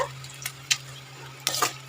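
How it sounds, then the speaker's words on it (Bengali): Small puti fish frying in oil in a wok, with a low steady sizzle under a few sharp scraping clinks of a spatula stirring against the metal. "এইভাবে মাছগুলো ভেজে নিতে হবে আর কাঁটাগুলো যাতে ভালো মতন ভাজা হয়ে যায়"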